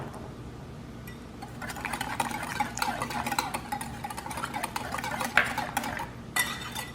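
A utensil scrapes and clinks against a bowl while homemade ranch dressing is stirred. The rhythmic, close stirring gets busier after a quiet start, with no voices.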